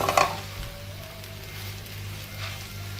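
Young liang leaves with egg and a little chili stir-fry in a pan in a southern Thai kitchen, giving a soft, steady sizzle with a few brief scraping stirs, fairly quiet and without talk.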